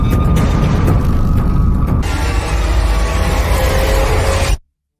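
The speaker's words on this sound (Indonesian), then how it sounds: "setelah ledakan tersebut" An explosion in a film sounds as a loud, booming blast that rumbles heavily for several seconds, shifts tone midway, then cuts off abruptly to silence.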